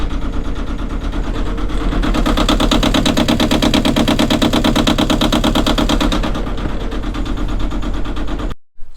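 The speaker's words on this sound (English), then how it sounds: "at least I got the engine running" The inboard engine of an O'Day 28 sailboat runs steadily at a fast, even idle, loud and close with a rapid rhythmic chug, then cuts off abruptly near the end.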